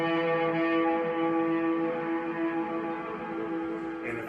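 A single sustained electric guitar note in a rock lesson, bent with left-hand finger vibrato, ringing steadily and close for about four seconds with a gentle wavering pitch before fading slightly.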